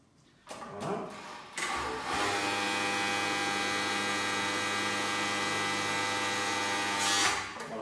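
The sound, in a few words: industrial sewing machine stitching with automatic thread cutter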